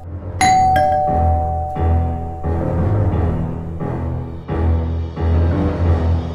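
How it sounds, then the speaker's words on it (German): A doorbell sounds with a sharp two-tone ding-dong at the start, then rings out over a low, pulsing rhythmic music bed. "Wieder klingelt es an der Tür"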